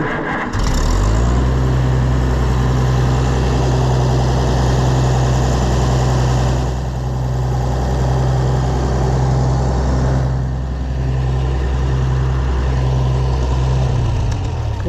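An Oliver 770 tractor engine with a newly installed carburetor starts up and runs loud and close, holding a steady, deep idle for about thirteen seconds before it stops.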